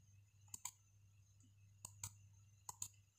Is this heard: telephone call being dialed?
no